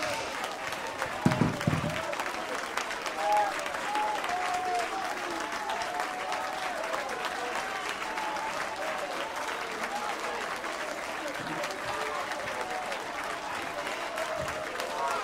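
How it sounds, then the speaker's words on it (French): A church congregation applauds God during a worship service, steady clapping under crowd murmur and voices for the whole stretch, with occasional louder bursts. "Pendant un applaudissement pour l'Éternel là."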